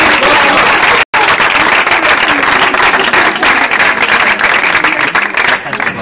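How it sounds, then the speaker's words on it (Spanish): A church congregation applauds with loud, dense clapping from many hands that runs continuously, broken only by one very brief dropout near the start. "Un aplauso a la palabra bendita del Señor."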